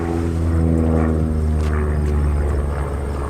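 Aerobatic propeller plane flying loops, rolls and hammerheads at a competition, its engine a loud, steady droning roar that holds throughout with slight swells, no talk over it.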